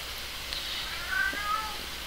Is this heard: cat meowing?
yes